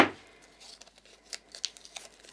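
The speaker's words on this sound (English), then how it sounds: "Normally I like using purple tape, but I've run out, so I'm just using some regular masking tape here." Plain masking tape is pulled off its roll for card making. A sharp rip opens the clip, then quieter crinkles and a few short tearing ticks follow, close and fairly soft, with no speech.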